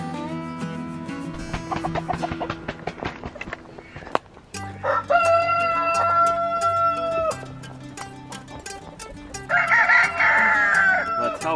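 Chickens on a homestead clucking and squawking, with a rooster crowing loudly and close by, the crow rising and holding, then more cackling and a final burst of crowing near the end.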